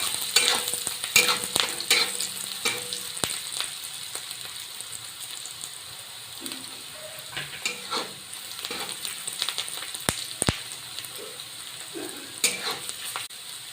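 Chopped onion sautés in a pan for vermicelli upma, a steady sizzle and fry with repeated scraping stirs of a spoon against the metal pan, close and continuous with no talk.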